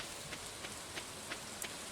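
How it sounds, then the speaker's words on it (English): Rain falls on a rainy day in the farming video game Stardew Valley, a soft, even patter with faint scattered drops, quiet and continuous throughout. "Hey, look, it's a rainy day."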